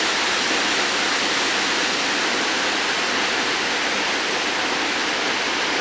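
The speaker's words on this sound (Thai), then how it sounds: "ถึงว่าเป็นน้ำตกเขาเอิ้นว่าน้ำตกตาดอีตู" The Tad I-Tu waterfall gives a steady, dense roar of falling water, loud and unbroken throughout.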